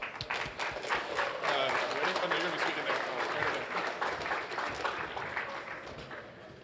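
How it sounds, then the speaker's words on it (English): Audience at a Roblox developer conference clapping and cheering, a dense sustained round of applause from a large crowd that swells and then slowly tapers off. "big round of applause, everyone"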